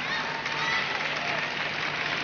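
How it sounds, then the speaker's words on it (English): Dense, steady applause and cheering from a large crowd at a 1999 World Championships gymnastics team final, a continuous wash of clapping that fills the whole stretch. "as you hear that crowd, they are really into this competition."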